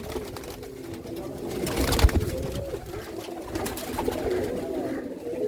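A pigeon coos softly in low, rolling calls amid a pigeon-keeping setting, with faint background noise and a brief handling thump partway through.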